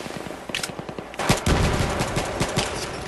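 Gunfire in a Battlefield 3 team deathmatch on the Grand Bazaar map: rapid close bursts of automatic fire crack out in quick succession, then heavier overlapping shots build into a louder, denser volley.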